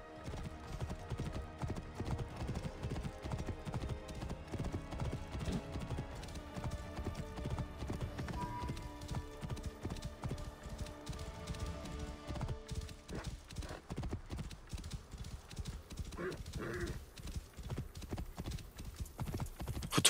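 Horse in the video game Assassin's Creed Origins: steady galloping clip-clop of hooves throughout, with a brief whinny near the end, fairly faint under game sound, with no talk.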